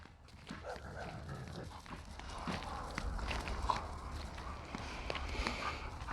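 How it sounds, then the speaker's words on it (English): Several dogs let out into a yard to play, their paws pattering and scuffling in quick irregular steps at close to mid range, with brief rustles and faint thumps over steady outdoor background noise. "So I've got the dogs out."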